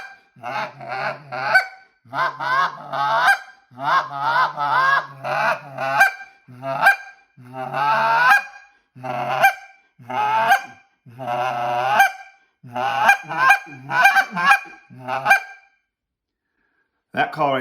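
Honking geese imitated on a goose call, loud and near: choppy series of sharp honks and clucks, each burst separated by brief gaps, ending in silence.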